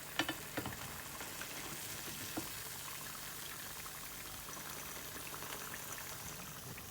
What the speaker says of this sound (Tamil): இப்போ இது ஒரு 2 நிமிஷம் ஃப்ரை ஆகட்டும்